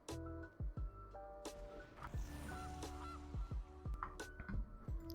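Repeated goose honks from a card-game creature sound effect, several short cries scattered over game music and interface chimes, fairly loud and close.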